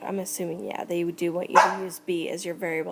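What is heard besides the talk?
dog barking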